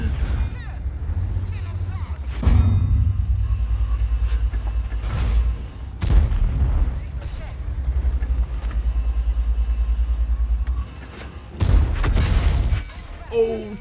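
Cannon shots from a Strv 103B tank in a Clan Wars video game battle: several loud, sharp booms spaced seconds apart over a continuous low engine rumble.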